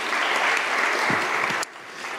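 Audience applause at a law career fair day, a dense steady wash of clapping lasting about a second and a half before it cuts off abruptly, leaving a quieter tail.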